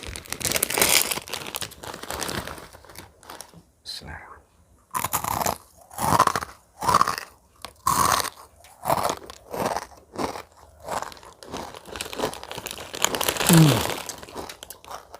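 Crunchy Mie Gemez dry noodle snack being bitten and chewed up close, with repeated loud crisp crunches in bursts and brief pauses between bites, no talking.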